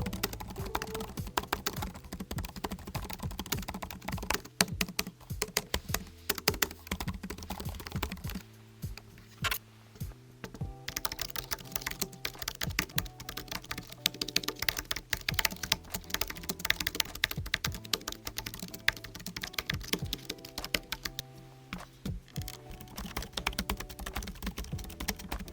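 Steady typing on a Logitech Designer compact keyboard, with a close, continuous patter of key presses and a brief slower stretch midway before the rapid clatter resumes.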